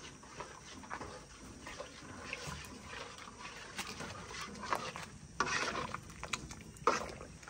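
A pot of watermelon juice syrup boils and reduces. It gives a continuous close bubbling and spattering with irregular pops and a few louder bursts toward the end, and no voices.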